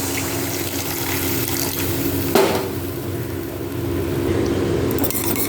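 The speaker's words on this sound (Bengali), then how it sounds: "এবার পরিমাণ মতো জল দিয়ে দেবো" Water poured into simmering fish curry masala with softened tomatoes in a pan, a steady close-up pouring and bubbling wash with a sharp splash midway, continuing to the end.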